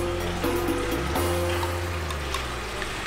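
Water flows continuously at the Moorish fountain in Sintra, a steady close splashing and trickling with a low rumble underneath and faint background noise, no one speaking.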